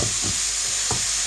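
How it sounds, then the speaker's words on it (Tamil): Country chicken being sautéed in its own moisture in a pan, a continuous close hiss of frying with a few brief scraping strokes of stirring. "அதுலேயே நல்லா வதக்கணும்."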